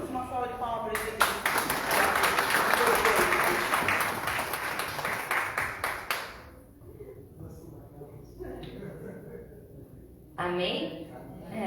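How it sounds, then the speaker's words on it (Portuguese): A church congregation claps for about five seconds, a moderately loud burst of applause that stops abruptly, followed by quieter talk. "uma salva de palmas para eles"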